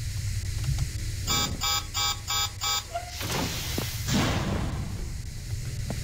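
A door opening in the video game SCP Containment Breach: five evenly spaced electronic beeps, then a loud mechanical sliding rush and a thud over a steady low hum.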